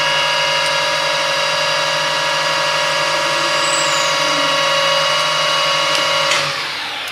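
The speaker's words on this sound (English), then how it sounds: "turn on your lathe and start" A lathe runs with a steady whine and constant hum, loud and close, winding down slightly at the very end.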